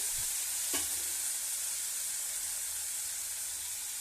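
Black-eyed peas (alsandi kalu) fry in a pan with a loud, even sizzle and hiss, close and continuous, broken by one brief knock near the start.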